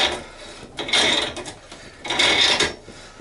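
A homemade compressor decompressing a Harley-Davidson motorcycle shock absorber makes close mechanical rubbing and rasping scrapes in two longer bursts, separated by quieter creaks, with no talking.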